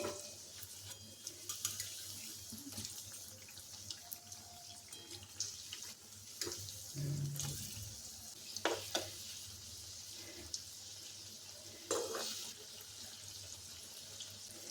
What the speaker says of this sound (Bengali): একটা সাইড ভাজা হলে অপর সাইডটা উল্টাতে হবে।